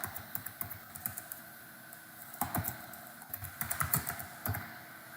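Rapid clicking of fingers typing a zone name on a computer keyboard, close and clear, in uneven bursts with short pauses between runs of keystrokes.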